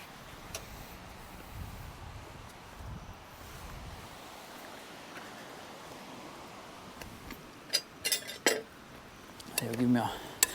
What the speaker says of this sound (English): I'll grab my glove and chuck that lid back on